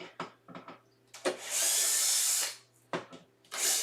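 A drill drives screws into a wooden sewing table, giving a sustained close whir of about a second between shorter tapping and handling knocks, followed by the start of another burst.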